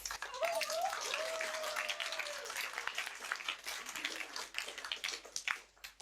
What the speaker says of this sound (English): A round of applause for the Marquis.